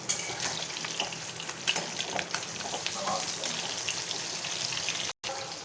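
Fish coated in salt and turmeric sizzles and crackles steadily in hot mustard oil, a dense continuous frying hiss close by with small pops throughout.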